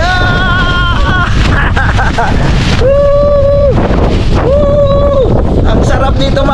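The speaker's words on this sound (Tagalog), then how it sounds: "Lakas ng hangin." Strong outdoor wind rumbles loudly and continuously against the microphone near a house while a kite is flown, with voices and shouts heard over the blustery roar.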